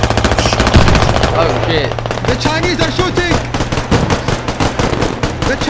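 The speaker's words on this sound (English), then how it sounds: "The Chinese are shooting us!" Rapid machine gun fire in a war video game, loud, close and sustained as continuous fast bursts of shots, with a brief startled exclamation from a player over it.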